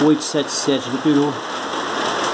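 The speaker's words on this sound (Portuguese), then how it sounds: "Esse dia tá chovendo bem, né?" Steady rain hisses in the background on a wet March day in Brazil, a soft continuous wash beneath someone speaking.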